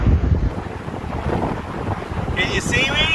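Strong wind buffets the microphone at an outdoor camping spot where a tarp shelter is being set up. It makes a loud, continuous rumbling roar that never lets up.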